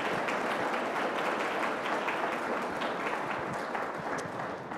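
An audience in a lecture hall claps continuously for several seconds, a dense, even wash of applause that fades slightly toward the end.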